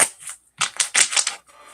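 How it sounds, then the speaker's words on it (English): A deck of double-sided playing cards is riffle shuffled up close, with two loud, rapid fluttering bursts separated by a short gap. "I'm going to give it a shuffle and another shuffle and another shuffle and a cut."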